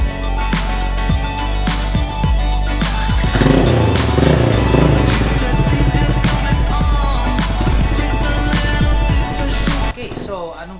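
A custom 399cc scrambler motorcycle, rebuilt from a stock 2016 bike, runs loud and close with a steady rumbling engine note and rising revs, and a voice talks over it throughout.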